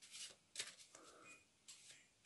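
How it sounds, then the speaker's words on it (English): Someone shuffles a deck of playing cards, giving a few quick, soft riffling bursts close by with small pauses between them, and no talking. "Give it a shuffle."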